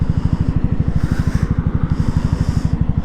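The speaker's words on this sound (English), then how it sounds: "oh, that's traffic, isn't it?" Engine of a CB125R motorcycle pulses in a rapid, steady rhythm up close, with swells of passing road traffic rising and fading around it.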